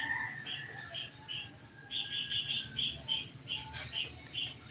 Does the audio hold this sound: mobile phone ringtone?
no